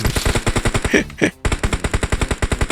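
Rapid machine-gun fire in the video game PUBG Mobile rattles out in a dense, even stream of close, loud shots. The firing pauses briefly near the middle and then carries on just as fast.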